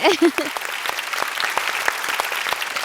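Audience applause from a studio crowd at a televised singing competition, a dense steady patter of many hands clapping throughout, with a brief voice near the start.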